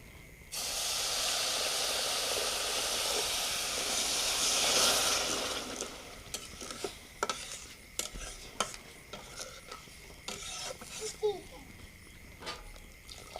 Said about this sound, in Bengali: এবারে আমি সুজি হালুয়া করার জন্য অল্প একটু জল দিচ্ছি।